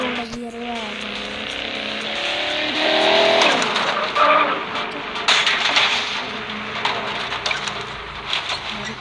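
A car crashes in the open-world driving game Mad Out 2, with a loud, sustained roar of engine noise and grinding, crunching metal, followed by scattered sharp impacts and debris clatter.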